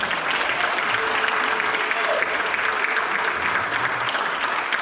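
An audience at a Tennessee Valley Jazz Society 40th anniversary celebration gives a sustained round of applause, dense clapping throughout with faint crowd murmur and a few tonal traces underneath.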